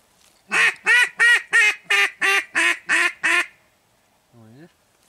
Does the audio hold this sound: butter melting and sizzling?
no